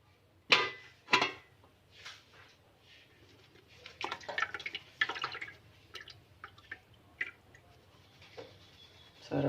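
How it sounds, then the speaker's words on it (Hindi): Hot water from boiled chicken shami kebab mixture drains through a basket strainer in bursts of splashing and dripping, loud pours at the start and scattered trickles afterward, close up in a home kitchen. "अब मैं टोकरी के अंदर छान लूँगी, पानी निकाल देंगे।"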